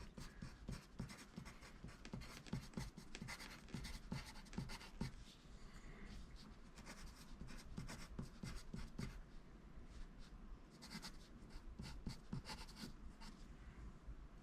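A No. 2 pencil scratching across paper in quick, irregular strokes, close and steady throughout, with brief pauses between bursts of writing.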